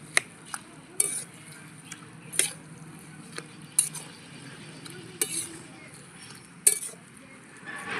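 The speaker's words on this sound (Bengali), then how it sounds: "এবার একটু ভালো করে মিশিয়ে নিয়ে কিছুক্ষণের জন্য ঢেকে দেবো" A fish and kulekhara greens curry is stirred in a pan: a spoon scrapes and taps against the metal at intervals, giving sharp clinks over a soft, steady simmer, with no talk.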